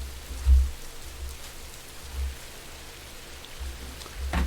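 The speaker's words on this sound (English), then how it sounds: "We were wandering around in the rain." Rain falling in the game Rising World: a soft, steady wash of rainfall with a few louder low thumps near the start and end, heard alone without voices.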